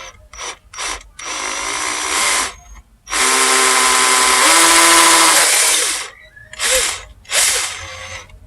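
A cordless screwdriver with an angle adapter drives screws into the mount for an electric bike's bottle battery: a few short whirring bursts, then two long steady runs and more brief bursts, loud and close.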